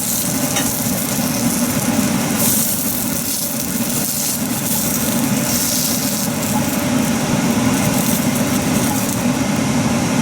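Shrimp frying in hot ghee in a pan, a steady dense sizzle with constant crackle, close and loud, unbroken throughout, no talking.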